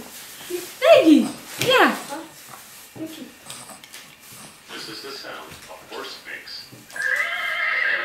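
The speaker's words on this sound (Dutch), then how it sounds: "Paardje, ik hoor paardje." A horse whinnies loudly up close, followed by softer snorts and clattering sounds, with a voice speaking near the end.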